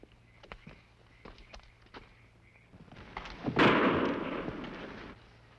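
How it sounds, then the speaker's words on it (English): A single pistol shot in an old Western radio drama, a sharp close bang with a ringing tail, after a few soft footstep-like thuds. "Pistol shot."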